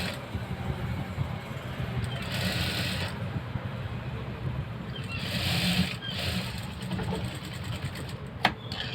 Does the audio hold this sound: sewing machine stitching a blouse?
yes